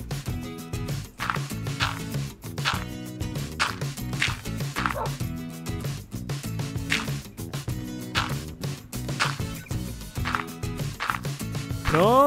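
A wolf dog in Minecraft barking repeatedly in short sharp yelps, mixed with punchy in-game thuds and effects in a busy, loud soundscape.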